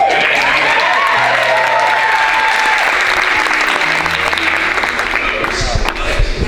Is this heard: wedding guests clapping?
yes